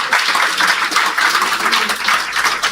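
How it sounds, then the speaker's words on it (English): An audience applauds at a Listwa Kannaval carnival event, a steady, dense wash of many hands clapping close by for nearly three seconds without letting up. "So Lancelot, I see you applauding."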